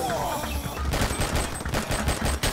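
Shotgun blasts and rapid gunfire in the R.I.P.D. video game, a dense, loud barrage of overlapping shots running through the whole moment.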